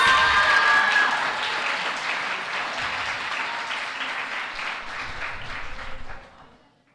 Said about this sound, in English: Let's give Kate another round of applause.